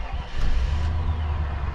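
A 1999 GMC Suburban 2500 engine turns over and settles into a steady, fairly loud low rumble close by, with no talking.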